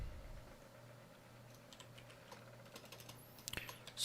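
Keys tapped on a computer keyboard while entering a trading watch list, a loose run of light clicks that turns quicker and denser toward the end over a low steady hum.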